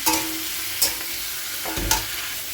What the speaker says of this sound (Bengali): মশলাটা আমি কষিয়ে নিচ্ছি জিরে ধনে বাটা যেটা আমি পেস্ট করে রাখি আর দিয়ে দিয়েছি হলুদ